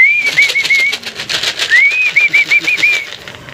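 Racing pigeons being handled at loading for a 79 km race make two runs of quick, squeaky rising chirps, close and clear, over soft rustling and flutter.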